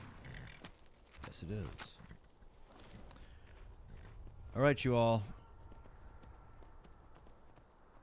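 Horse hooves clip-clop in a fantasy role-playing game near Windhelm, a short burst of hoofbeats standing out briefly amid game ambience, with people talking before and over it.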